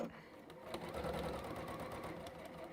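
A sewing machine stitching fabric runs in a steady, fast mechanical rattle, close and continuous through the whole stretch, with a slight surge in the middle.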